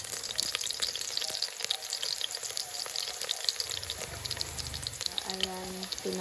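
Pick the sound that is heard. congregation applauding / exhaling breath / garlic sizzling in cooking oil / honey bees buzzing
garlic sizzling in cooking oil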